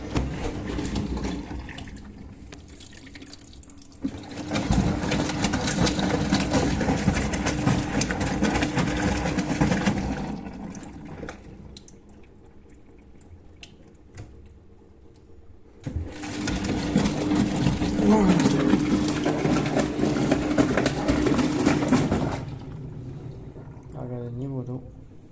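A Brandt washing machine running its rinse cycle, with two long stretches of steady churning and whirring water noise separated by a quieter pause and close, constant mechanical hum underneath.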